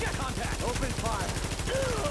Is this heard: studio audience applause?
no